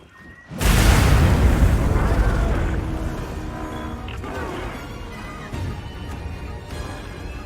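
A bomb detonating in the video game Monster Hunter Wilds: a sudden heavy boom erupts after a brief quiet, then a long rumbling roar with crackling debris slowly fades but lingers loud throughout.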